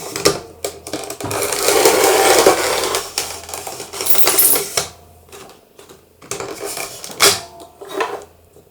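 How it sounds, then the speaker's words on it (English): Card being cut to a square for cardmaking, heard as close rasping and crunching strokes in several bursts with short pauses between them. "Let me cut that one out."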